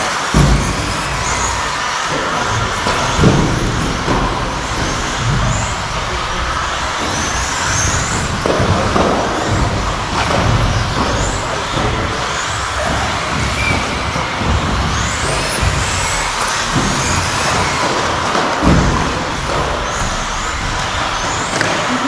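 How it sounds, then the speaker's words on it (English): Small 2wd RC buggies run laps on an indoor dirt track during practice before the heats, their electric motors whining and buzzing steadily at mid distance over a continuous roar of raceway noise for the whole stretch. "get a little practice before the heats start"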